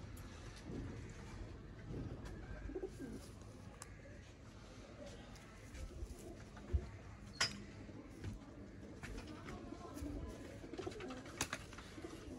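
Soft cooing of pigeons in a breeder's loft of paired birds, repeated low calls under light background noise and someone speaking at times.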